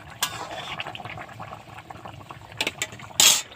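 A pot of broccoli and fish curry simmers and bubbles softly, with scattered pops and light clinks, then a brief louder splash or hiss near the end.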